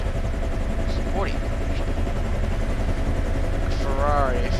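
A Bell H-1 Huey helicopter in a flight simulator game drones steadily with a dense low rotor and engine roar, loud and continuous, with a few brief higher tonal sweeps over it.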